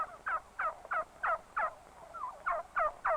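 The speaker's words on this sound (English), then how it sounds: "Listen to them gobble." Young male bronze tom turkeys gobble in a rapid series of about nine close, loud bursts, each a warbling rattle, with short gaps between calls.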